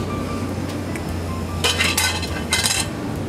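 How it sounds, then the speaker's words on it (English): A metal muffin tin clatters and clinks a few times in a kitchen while Yorkshire pudding is being made, with short bright metallic rattles over a steady low hum and no talking. "I'm gonna go ahead and get a pan"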